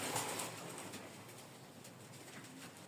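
Satin and Banja pigeons kept in a loft, cooing softly in low repeated murmurs against a faint, hissy background, close but quiet, with no speech.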